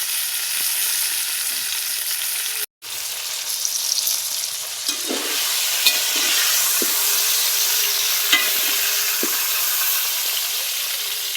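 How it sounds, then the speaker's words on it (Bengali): Eggplant pieces frying in a hot oiled pan, a steady loud sizzle with brief stirring knocks and scrapes, cut by a short dropout near the start. "বেগুনগুলো উল্টি পাল্টি ভালো করে ভেজে নেব।"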